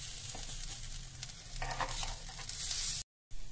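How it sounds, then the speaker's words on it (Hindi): Appe made from black chickpeas and semolina frying in a pan, a steady close sizzle with light scraping and stirring sounds as they are turned, followed by a brief dropout near the end. "इनको हम अब पलटते हैं और फिर इसको बार बार ऊपर नीचे करके थोड़ा थोड़ा पकाएंगे"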